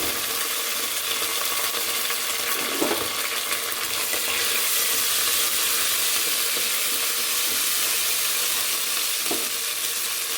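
Grated ginger fries in a pan for tomato rice with a dense, continuous sizzle at steady loudness. A few faint clicks and stirring knocks break through, and no one speaks.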